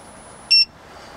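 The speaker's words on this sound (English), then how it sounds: "Heard the beep." A short, bright electronic beep from a power inverter in an RV sounds once against a quiet background hum.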